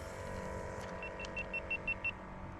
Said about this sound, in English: Oh, your camera's ringing again.